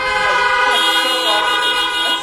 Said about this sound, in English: Can we just honk again?